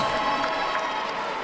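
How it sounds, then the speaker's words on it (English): A boxing crowd at a live fight night applauds and cheers after four rounds, a dense, continuous roar of clapping and voices throughout. "could we please have a big round of applause"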